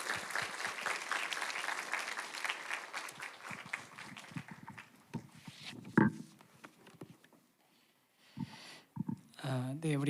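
Church congregation applauding at a Friday worship service as a pastor is welcomed; clapping is dense and steady at first, thins out, then gives way to someone speaking.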